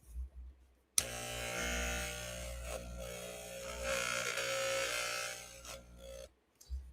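Electric shaver switches on with a click and runs in a steady, close, high-pitched buzz for several seconds, then cuts off; no talk.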